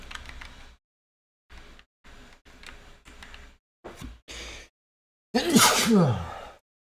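A few brief voice fragments break off, then one loud, explosive sneeze bursts out close to the microphone.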